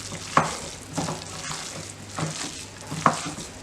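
Close, moist squishing of raw meatball mixture being worked together by hand, a few soft rhythmic squelches and one or two sharper slaps, fairly quiet with no talking.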